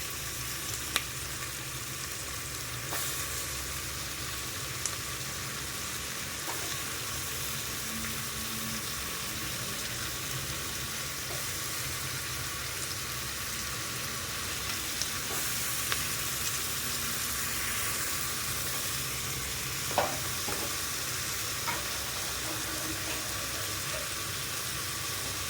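Cut vegetables with potato, ginger and garlic sauté in a hot pan with a steady, even sizzle and occasional faint clicks from stirring, with no voices.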